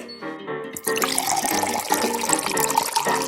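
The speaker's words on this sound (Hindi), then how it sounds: "पानी डालो" Water pours steadily into a cup for a sweet cotton-candy drink, a continuous splashing trickle that starts after a short pause and runs on alone, fairly close.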